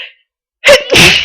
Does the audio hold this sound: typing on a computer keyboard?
no